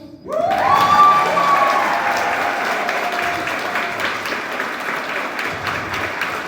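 Comedy special audience bursts into loud, sustained applause with some cheering, rising sharply after a brief quiet start and holding steady as a dense crowd wash.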